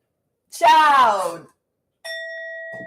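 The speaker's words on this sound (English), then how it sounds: "I had to ring my bell on you." A bell is rung twice: first a bright, ringing tone with shimmering harmonics that decays over about a second, then after a pause a second steady, sustained ring that holds to the end.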